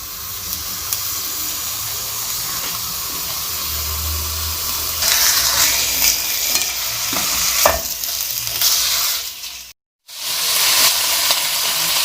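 Chicken meat for hot and sour soup sizzles and sautés in a hot pan, a loud continuous frying hiss with stirring scrapes, briefly dropping out for a moment before resuming.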